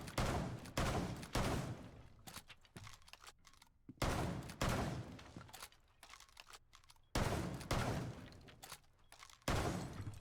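Rapid bursts of gunfire in Rainbow Six Siege as a defender shoots up a wall on the Consulate map, loud automatic volleys repeating in several long strings with brief gaps between them.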